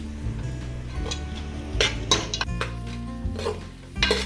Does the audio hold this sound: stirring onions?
yes